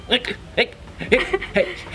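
A voice imitates a scratched CD skipping, producing a rapid run of stuttering, hiccup-like vocal repeats. The sound is close and loud, with some chuckling mixed in.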